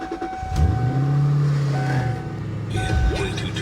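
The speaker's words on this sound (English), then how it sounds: "Well, that exhaust sounds mean." A car exhaust idling and blipping at a dealer auction, a deep rumbling drone that swells as the engine revs, close by, with faint talk and beeps around it.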